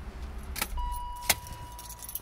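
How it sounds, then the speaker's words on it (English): Car key pulled from the ignition of a BMW Z3 roadster, two short metallic jangles of the key ring about a second apart, close and quiet, with a steady electronic chime tone sounding between them. "Take the key out so we don't have the incessant chime."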